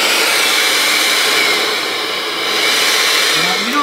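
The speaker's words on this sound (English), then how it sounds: "It's just a cool little blower for, you know, little things you need to dry out an area" A battery-powered cordless air inflator blower runs close and loud as a steady, breathy whoosh with a slight dip in the middle, then a rising tone near the end as its speed changes.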